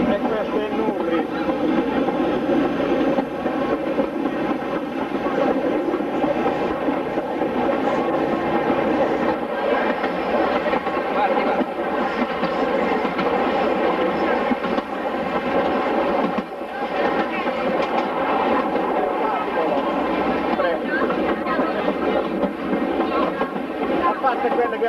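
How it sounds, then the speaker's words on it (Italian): A Sardinian Trenino Verde narrow-gauge tourist train starting up and running, a loud continuous rumble and rattle of the carriages that holds steady throughout, with a brief dip partway, while people talk over it. "ecco qua che aziona il treno"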